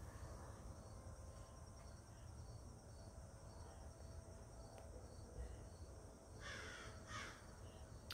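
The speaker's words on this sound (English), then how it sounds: "The crow, how appropriate." A crow caws from the trees above a Halloween-decorated garden, a few calls clustered near the end, over a steady bed of insect and cricket chirring.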